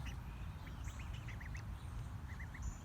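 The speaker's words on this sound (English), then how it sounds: "I got these Peking ducks for Grace's diet" Peking ducks quacking in short bursts, several quick quacks in a row and a few more after a pause, moderately distant over a low background rumble, no talking.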